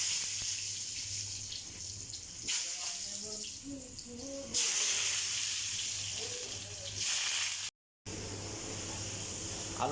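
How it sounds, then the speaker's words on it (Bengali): Potatoes frying in hot oil in a home kitchen while chicken is being cooked; a steady hiss and sizzle runs throughout, with a brief low murmur partway through and a short silent gap near the end. "এখন আলুটা একটু ভেজে নেব।"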